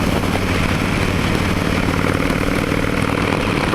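A big motorcycle engine runs steadily, a dense continuous rumble with fast rhythmic pulsing, close and loud throughout with no talk.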